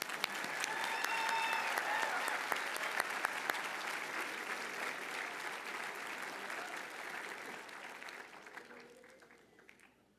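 Another round of dense applause from a Cushing Academy commencement crowd, strongest early then gradually thinning and fading away toward the end.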